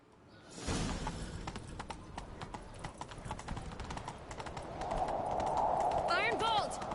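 Horses gallop in a video game, rapid clip-clop hoofbeats that build and grow louder, with voices speaking over them and a brief higher whinny-like cry near the end.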